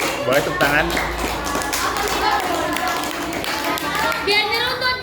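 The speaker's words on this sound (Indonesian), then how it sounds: "Oke, boleh tepuk tangan." An Indonesian school class at an Islamic boarding school claps after a presentation. The applause is dense and ragged, with irregular taps mixed with chatter and voices throughout.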